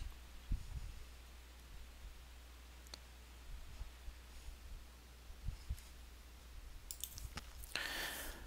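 Scattered computer mouse clicks, faint and sparse, tap out at irregular intervals over a low steady room hum with soft rustling.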